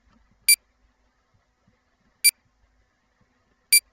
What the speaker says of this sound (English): It's a weird beep sound